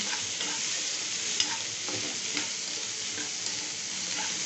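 Vegetables sizzle and fry steadily in a pan while noodles are being made, a constant crackle with occasional stirring clicks close by.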